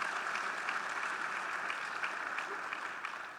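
Audience clapping hands at a gathering, a steady, fairly faint wash of applause that runs evenly throughout with no voices standing out.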